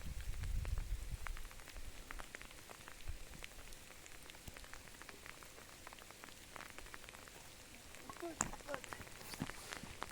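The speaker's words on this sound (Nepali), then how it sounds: "पानी परेर हेर्नु न गाइस" Steady rain patters on a surface, a dense field of close, quiet droplet taps. A low rumble at the very start, then the soft, even patter continues with a few sharper drips near the end.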